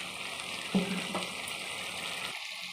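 Chicken masala with tomato sauce sizzles steadily while sautéing in a pan, a soft continuous hiss with a single knock of a utensil early on, fading quieter near the end.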